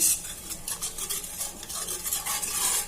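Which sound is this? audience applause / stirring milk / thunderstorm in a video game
stirring milk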